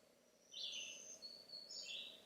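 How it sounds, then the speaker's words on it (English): A black-throated green warbler sings high, buzzy notes in two short phrases, faint and distant over a quiet outdoor background. "that's a black-throated green warbler"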